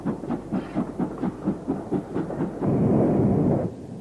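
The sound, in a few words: Castle class steam locomotive at Snow Hill in snow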